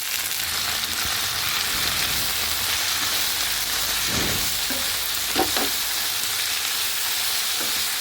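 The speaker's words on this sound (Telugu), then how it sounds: "వీటన్నిటిని లైట్గా ఫ్రై చేసుకుందాం." Mint leaves fry lightly in a pan, giving a constant close, even hiss of sizzling oil with a few soft stirring knocks and no voices.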